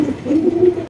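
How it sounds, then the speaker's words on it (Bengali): Australian dove cooing in a steady, close, fairly loud run of low coos lasting under a second, with no voices over it. "খুবই চমৎকার একজন অস্ট্রেলিয়ান ঘুঘু।"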